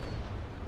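Ship cannons firing in the naval battle game Naval Action aboard the frigate Belle Poule, a short burst of dense, low booming rumble, loud and close, no voices.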